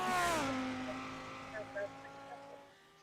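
A Lamborghini race car engine in a sim racing game roars and then drops sharply in pitch, easing into a steady, fading drone with a few small blips.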